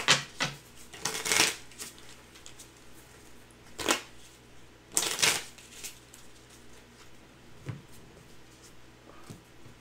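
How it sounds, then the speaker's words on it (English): A deck of cards is shuffled by hand at a tabletop mystery game, in several sharp riffling bursts separated by quieter handling and soft background noise. "Make sure you actually shuffling that."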